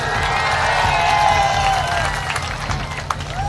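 A crowd at a political rally claps and cheers loudly, a dense wash of applause with a whistle rising through it.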